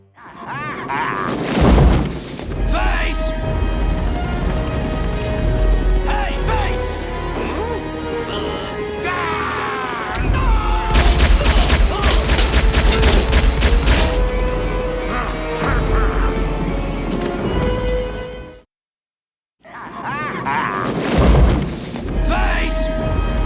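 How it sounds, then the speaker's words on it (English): Film scene from Batman Forever in which gunfire is fired repeatedly through a helicopter windscreen, heard as loud booming shots, crashes and impacts layered with a dense soundtrack, cutting briefly to silence before resuming. "Two-Face's repeated shooting at Batman through helicopter windscreen, which kills the pilot after riddling him with bullets"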